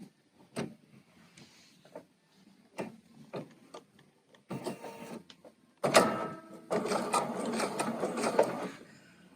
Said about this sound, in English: And then sew the length to form your tuck.